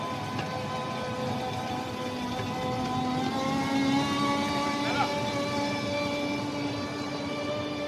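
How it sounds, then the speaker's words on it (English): An electric forklift's hydraulic motor gives a steady, moderate whine with sustained tonal hum and a faint rise in pitch, running continuously over a low background rumble. "You can still hear the hydraulic motor, so it's not completely silent"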